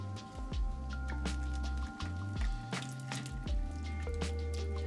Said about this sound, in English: we're going to add our pasta back and toss it all up